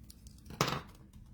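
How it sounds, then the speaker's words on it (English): A brief crisp snip of scissors trimming a piece of craft card, a single cut heard up close and fairly quiet, with soft handling noise before and after. "I'm just going to take the scissors and"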